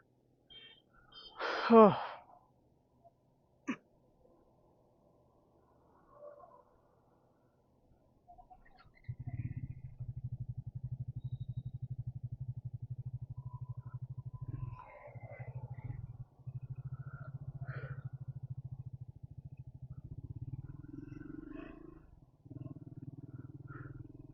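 After a sharp noise and some quiet, a Triumph Scrambler 400XC motorcycle engine starts and drones steadily at low pitch, with a few brief dips and faint voices, on a long highway ride.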